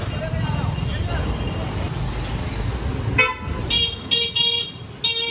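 Congested road traffic near a crowded religious gathering, with a stuck bus and bikes, drones under speech; several short car horn toots break out toward the end, fairly close.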